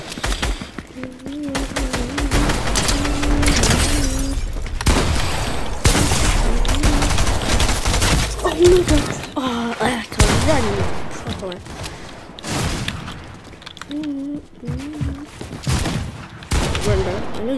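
Shotgun fire in Fortnite, repeated loud blasts at irregular intervals amid dense game noise, with a player's voice talking over much of it.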